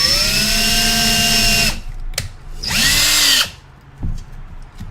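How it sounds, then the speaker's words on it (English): Power drill widening an existing hole with an incrementally larger bit at a hobby bench, whining steadily in two loud bursts separated by short pauses and a faint click. "I'll use a drill, and I will go with a size that's just about the same size of the hole now"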